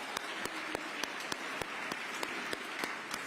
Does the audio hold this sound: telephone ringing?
no